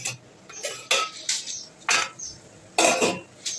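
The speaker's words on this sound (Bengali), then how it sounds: "আমি এবার আমার এই ঢাকনাটা খুলে রাখা" A metal lid lifted off a pot of slow-cooked mutton bhuna, giving several sharp clinks and scrapes of metal on metal, close and fairly quiet, spaced irregularly with no talking.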